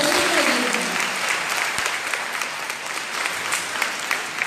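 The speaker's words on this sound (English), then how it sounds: "Let us give him a round of applause." Round of applause at a senior high school commencement ceremony, sustained dense clapping from a large audience filling the whole stretch at an even level.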